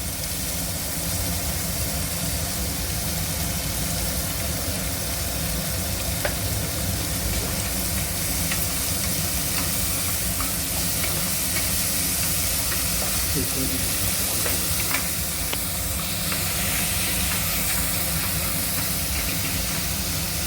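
Sliced onions with salt frying lightly in a pan for dal khichdi, a continuous dense sizzle and hiss held at an even level throughout, close and steady.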